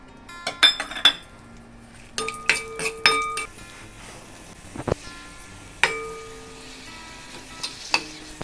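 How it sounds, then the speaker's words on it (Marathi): Metal utensils clink and scrape against a pan while black raisins fry for ladoos, with sharp scattered taps over a faint background sizzle. "आता आपण काळ्या मनुका तळून घेऊया।"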